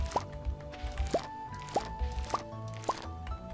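Watering crops with a watering can in the Stardew Valley video game: a series of five evenly spaced liquid plops and drips, clear and close, with a soft musical background underneath and no talking.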